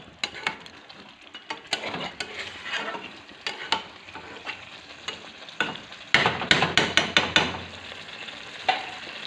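Meat is stirred and fried in an iron wok, with a soft sizzle under irregular scrapes and sharp clanks of a spatula on metal, growing into a quick run of loud knocks near the end, close and without talk.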